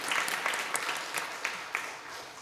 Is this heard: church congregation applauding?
yes